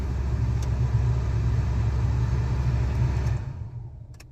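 A Honda HR-V engine idles steadily after a remote start, a low, even rumble close by that holds constant for over three seconds and then fades quieter toward the end.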